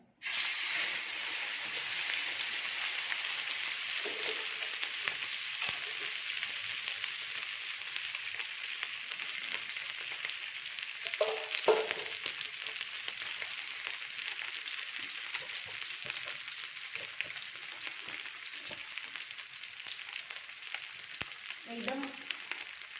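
Semolina-coated halwa fish frying in a pan on medium heat, a loud continuous sizzle and hiss throughout with occasional soft clinks and shifts from the pan.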